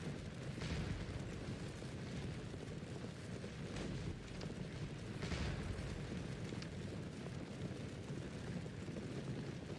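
Artillery fire in the battle game Scourge of War: Waterloo, several distant booms over a constant low rumbling battlefield din, no talk.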